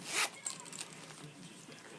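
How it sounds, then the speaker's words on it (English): A gold zipper on a Michael Kors iPad 2 case is pulled open in a quick, close, soft rasping stroke, then trails off quietly. "You can zip it open"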